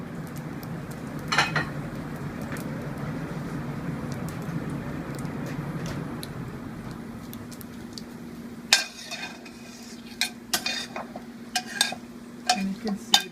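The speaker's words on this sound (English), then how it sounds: "You can see it's already sizzling here." Whole cumin, black pepper, bay leaf and chilies sizzle softly in hot oil in a pan, a faint steady crackle, then a few sharp metallic stirring clicks and scrapes near the end.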